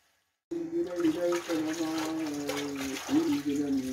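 Running water while an item is washed once more after a vinegar soak, a steady splashing flow that begins abruptly and continues close by without a break.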